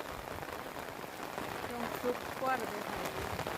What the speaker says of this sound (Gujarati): અને વરસાદનો માહોલ